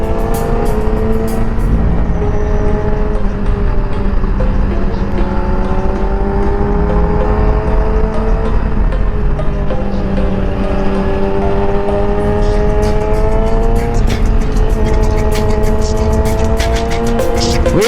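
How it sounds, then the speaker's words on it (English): A Yamaha R6 motorcycle is ridden with its engine close and loud, the pitch rising and falling steadily through gear changes and throttle shifts. "Come on, Chris, this bike is easy."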